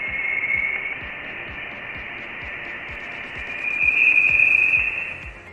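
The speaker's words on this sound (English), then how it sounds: "a sound made in space by Voyager 1, a unique sound caused by a solar kernel mass ejection" Voyager 1 space recording tied to a solar coronal mass ejection, a steady high whistling tone over dense static hiss with faint rhythmic clicks, swelling slightly louder toward the end.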